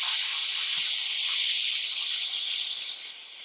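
A handheld steamer hisses loudly and continuously while window tint film is peeled off glass, a steady close spray of steam that fades slightly at the end, with no other sounds.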